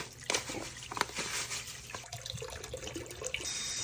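Water runs into a home sink being filled with clay, a steady splashing wash with a few sharper splashes, close and moderately loud, with no talking.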